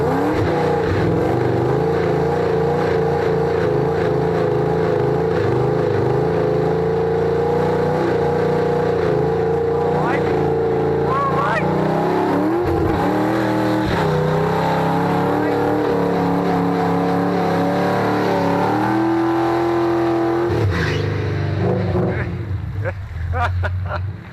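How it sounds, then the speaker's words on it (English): A Mustang revs hard through a tire burnout, its engine droning loud and sustained with rising and falling pitch, while people shout and cheer over it. "Oh, Mike, you really did it to him. Ah. We still have some left, baby. You still got some tire."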